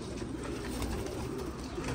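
Pigeons, newly bought breeding birds, coo softly in a loft, a continuous low murmuring coo at close range with no talking.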